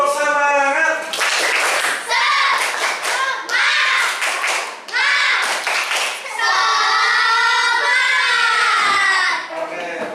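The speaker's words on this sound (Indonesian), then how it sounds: "Tepuk semangat." A classroom group performs a rhythmic spirit clap, bursts of fast hand clapping alternating with young voices chanting and calling together, loud and close, in several patterned rounds.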